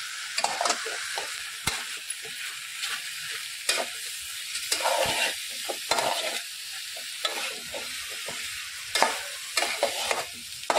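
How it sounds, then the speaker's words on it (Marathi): Large prawns are tipped into a spicy Agri-Koli style masala curry in a pan and stirred, giving a steady frying sizzle with repeated scraping and clattering strokes close up and no voices. "आता आपण त्या मोठ्या फ्रॉन्स म्हणजे कोलंबी घेतलेली आहे ती ह्यामध्ये टाकून घेत आहोत।"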